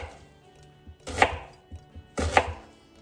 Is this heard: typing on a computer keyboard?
no